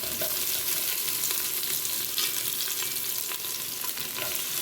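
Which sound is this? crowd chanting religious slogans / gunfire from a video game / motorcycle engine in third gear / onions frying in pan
onions frying in pan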